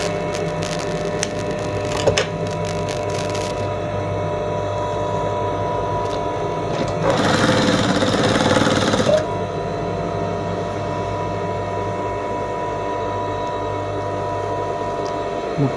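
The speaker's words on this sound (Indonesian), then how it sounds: "Jahit tepi pelan-pelan saja supaya lurus" A sewing machine stitches along the edge of a window curtain, giving a steady mechanical drone throughout with a louder, rougher burst of stitching lasting about two seconds midway.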